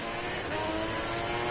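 A GP2 race car engine at the Malaysian Grand Prix, a loud sustained high-pitched roar held steady for a second and a half, close and continuous with no talk over it.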